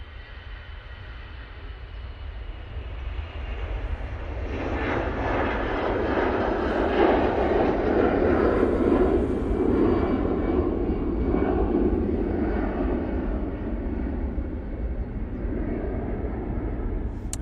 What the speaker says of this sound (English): Sounds like an EasyJet.